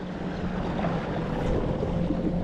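Small electric motor pushing a NuCanoe U10 fishing kayak across open water, a steady low drone mixed with wind buffeting and water rush, close and fairly loud, with no speech.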